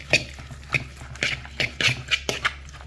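A fork scrapes and taps rhythmically against a bowl as coleslaw for a barbecue is stirred and mashed, a series of quick clinking strokes roughly twice per second, close and clear, with no talking.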